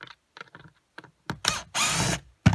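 Power drill unscrewing angle bracket screws during rear wall maintenance on an Alliance Paradigm RV: a few faint clicks, then two loud whirring bursts, the second longest, ending with a sharp knock.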